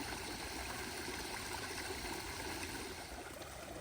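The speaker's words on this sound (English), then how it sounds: "Got this right over the pond, waterfall, and stream." A garden pond's waterfall and stream give a steady, close, continuous rush of running water, alone with no voices.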